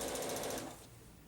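A sewing machine stitches across pieces of fabric, running in a fast, steady whir for about half a second and then stopping, close and fairly quiet.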